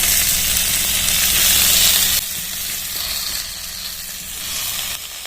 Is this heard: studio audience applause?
no